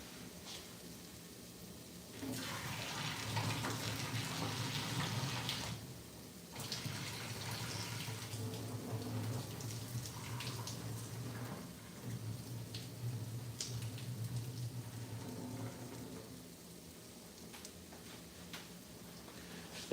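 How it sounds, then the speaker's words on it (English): Cooked pasta and its hot cooking water pour out in a rushing, splashing stream, running in two long bursts with a short pause between them, then tapering to a quieter trickle, with no one talking. "We're gonna pour out this pasta."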